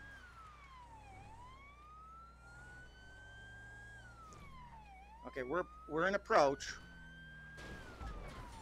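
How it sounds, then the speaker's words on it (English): A wailing police car siren from the GTA V LSPDFR game rises and falls steadily throughout, thin and harsh in tone, with someone speaking briefly partway through and a short burst of road noise near the end. "That siren sounds anything but good. Sounds like it's a dying cat."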